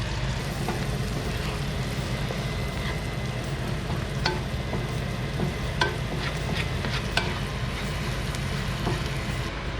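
A rock scallop dish with shallots simmers in a pan, a steady close bubbling hiss broken by small irregular pops and clicks, with no talking.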